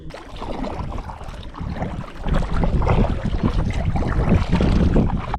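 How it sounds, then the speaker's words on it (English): Strong wind buffeting on an alpine lake during packrafting, a rough, rumbling gusty roar that surges louder about halfway through, with water splashing against the raft, close and continuous, no talking. "This wind is brutal."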